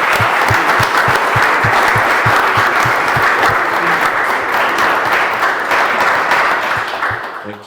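Audience applause at a stage conversation event, a dense steady wash of clapping from a crowd that holds for several seconds and then begins to fade at the end.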